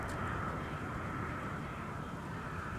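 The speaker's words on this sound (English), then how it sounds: "Now it looks like we got a 330 taxiing out on the runway, too" An Airbus A330 airliner taxis out at an airport, heard as a faint, distant, steady jet-engine whine with a broad roar beneath it and no voices.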